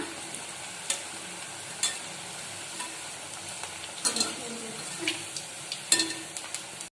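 Murukku made from leftover rice crackles and sizzles steadily while deep-frying in oil, with several sharp clinks and scrapes as the pieces are turned over, close and moderately quiet.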